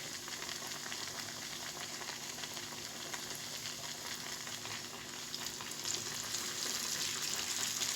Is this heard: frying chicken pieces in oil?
yes